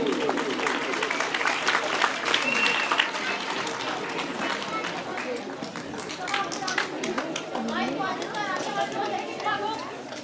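At a prize-giving for small children at Kehkshan Public School, Bindian, AJK, scattered clapping mixes with lively crowd chatter, children's voices and an amplified announcer talking over it.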